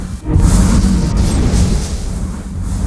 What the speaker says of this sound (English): There's all those extra orb explosions going off with my skeletons dying